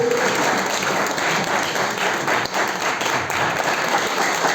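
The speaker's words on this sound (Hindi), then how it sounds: "एक बार जोरदार ताली आसिफ जी के लिए" Sustained applause from a large crowd fills the space, thick and even, with no pause throughout.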